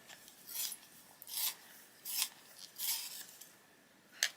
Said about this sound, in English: Let's give it a sharpen.